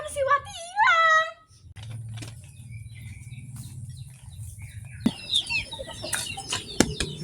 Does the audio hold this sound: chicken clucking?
yes